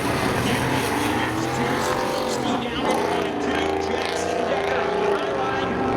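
Red and blue Camaros in a spectator drag race at Seekonk Speedway, their engines roaring continuously at close range beneath a race announcer's commentary.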